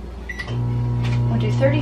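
A home microwave oven with a rotating tray reheating bacon starts with a short beep, then settles into a steady low electrical hum, with a voice talking over it.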